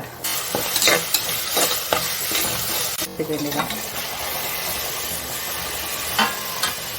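Onions with ginger and garlic sauté in a pan, a steady close sizzle with scraping stirs and spatula knocks, and a voice faintly present at times.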